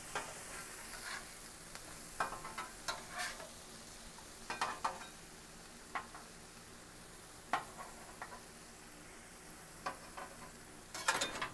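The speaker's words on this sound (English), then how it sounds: "Let's go ahead and flip our burgers." Beef burgers and pork sausage patties sizzle steadily on a hot cooking surface, with a spatula scraping and clicking sharply at intervals as the patties are flipped, and no one talking.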